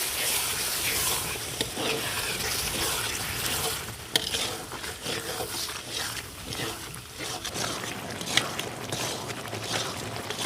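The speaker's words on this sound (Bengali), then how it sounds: "এবার খুব ভালোভাবে কষিয়ে নেবো যতক্ষণ না মশলা থেকে তেল ছাড়ছি" Spice paste with tomatoes for chicken curry being stirred and fried in a pan, a steady close sizzle with scraping spoon strokes running throughout.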